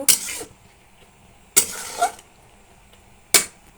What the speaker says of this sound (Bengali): এবার এই মশলাটা এর মধ্যে দিয়ে দেব, এই মশলাটার মধ্যে দিয়ে দেব, আবারও সুন্দর করে নেড়ে নেব